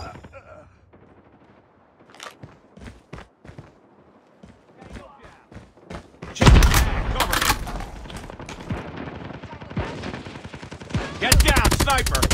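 Call of Duty Mobile gunfire in Rush mode: scattered single shots early, then loud sustained automatic bursts and heavy rattling fire, with speech mixed in.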